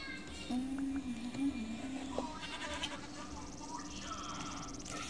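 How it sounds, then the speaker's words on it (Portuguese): A Minecraft goat bleats a few times, fairly faint, over a low ambient background hum. "É uma cabra."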